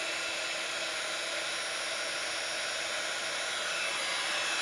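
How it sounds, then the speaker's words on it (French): A heat tool blows steadily over embossing powder on a handmade card, giving a constant airy whir and hiss like a hair dryer, close and unbroken with no talking. "fer à chauffer, donc je fais chauffer un petit peu."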